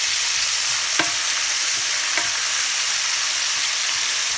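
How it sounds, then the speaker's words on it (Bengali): Chopped onions fry in hot oil until light brown, a loud, steady sizzle and hiss with a couple of sharp stirring clicks. "এরপরে এই পেঁয়াজটা আমি একটু হালকা ব্রাউন কালার করে ফ্রাই করে নেব।"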